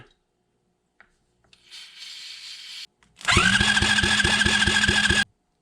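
A GIO engine with a new starter and starter fluid is cranked with the choke off: a brief whirring turnover, a pause, then about two seconds of loud, rhythmic chugging cranking that cuts off abruptly.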